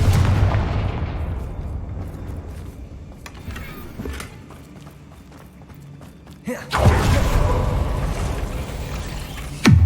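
Fire-spell explosions in the video game Hogwarts Legacy, with a loud booming blast that decays into rumble, a few scattered thumps, and then a second heavy burst, all loud and close.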